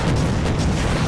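A barracks is blown up in the Empires Source mod game, a brief, loud, dense rumbling blast that fills the moment with no speech.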